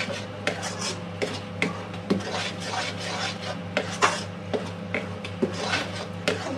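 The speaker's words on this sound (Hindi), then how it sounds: "इसे पकाते हुए अच्छी तरह हम कढ़ाई से जब तक छोड़ने ना लगे तब तक इसे हम पकाएंगे।" A sweet mango mixture is cooked and stirred in a kadhai, with repeated scraping and rubbing strokes of a spoon against the metal pan in a steady rhythm.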